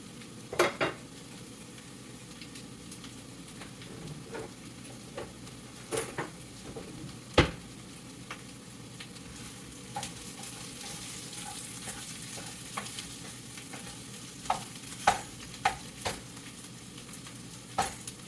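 Potatoes fry in a pan under a soft, constant sizzle, with occasional sharp clinks and scrapes of a utensil stirring them against the pan, close by and with no talk.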